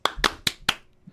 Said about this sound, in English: we deserve a soul clap as a show.